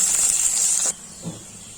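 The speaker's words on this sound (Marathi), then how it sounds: "आणि कांदा, कांदा लाल होईपर्यंत परतून घेऊ।" Onions sautéing in hot oil for a black pea curry give a loud, steady hiss and sizzle that cuts off abruptly partway through, followed by quiet with one faint knock.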